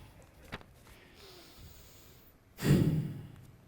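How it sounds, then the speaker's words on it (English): Deep breathing through the nose as a calming exercise, with a soft breath early on and then a loud, close nasal inhale around the middle, heard alone without talk. "Deep breaths through the belly, through the nose, into the belly and out."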